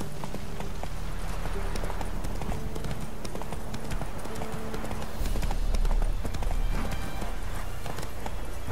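Horse galloping in The Witcher 3 video game, steady rhythmic hoofbeats with a brief louder swell midway, accompanied by a faint voice.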